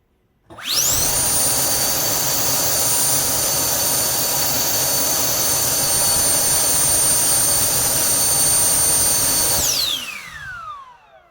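A Milwaukee-powered AliExpress leaf blower spins up fast and runs at full power with a loud, steady jet-like roar and high whine, then winds down with a falling whine.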